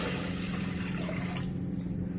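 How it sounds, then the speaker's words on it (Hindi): Water poured from a lota into a handi for cooking moong dal, a continuous close rushing pour that thins out near the end. "2 लोटी हमें पानी पहले डाल देना है बर्तन में, हंडी में"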